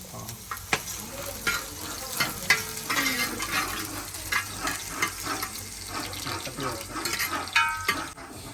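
Ginger and garlic fry in oil in a pan over a wood-fired stove, a busy crackling sizzle mixed with repeated scraping stirs and clinks, plus faint background voices.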